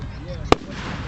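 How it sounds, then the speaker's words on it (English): A single sharp firework bang cracks out in the middle of a short stretch of outdoor noise, with a loud clean burst and nothing else standing out. "That's fireworks."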